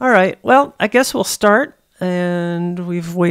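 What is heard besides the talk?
None of the usual background noises is heard.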